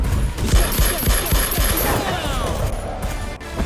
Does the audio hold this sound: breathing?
no